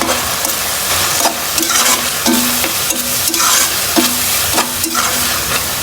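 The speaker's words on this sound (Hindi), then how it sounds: "अब हम इसको अच्छे तरीके से मिक्स करेंगे" Turmeric and ground coriander are stirred in a pan for a masala bhindi dish: loud, close spoon scrapes repeat in a steady rhythm over continuous frying sizzle, with no talking.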